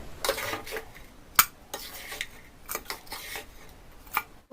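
A cooked ladoo mixture is scraped from a wok into a large vessel, giving scattered metallic scrapes, taps and clinks of a spoon against the pans, fairly quiet with a few sharper knocks.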